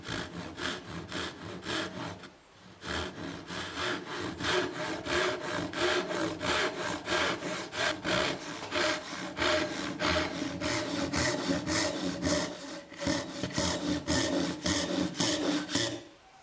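A Japanese pull saw cuts wood clamped on a Western-style workbench, giving a steady rhythmic rasp of quick repeated strokes, close and clear, with one brief pause about a third of the way through.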